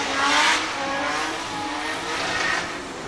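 A Nissan S14 drift car with an RB25 engine at a British Drift Championship round in Birmingham, loud sustained engine roar and tyre squeal heard from a moderate distance, steady throughout with no talk.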